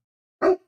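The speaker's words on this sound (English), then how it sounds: "that's my dog." A single short, loud dog bark sounds close by after a moment of silence.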